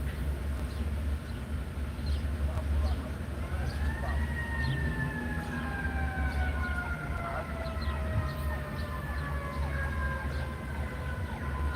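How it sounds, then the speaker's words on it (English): Emergency vehicle sirens wail in the background, one rising and holding a long steady tone from about four seconds on, over a constant low rumble, with no talking. "Do you hear the sirens in the background?"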